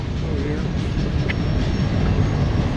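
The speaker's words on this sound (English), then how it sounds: "Look at that train. That train has been moving for close to a minute now." A very long freight train rolls past in Flagstaff, Arizona, a steady continuous low rumble and rattle of railcars lasting throughout, loud and close, with no talk over it.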